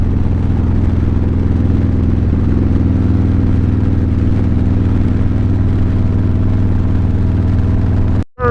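A small-tank motorcycle cruising a road toward Kentucky, its engine holding a steady loud drone with wind rush throughout, ending in an abrupt cutoff.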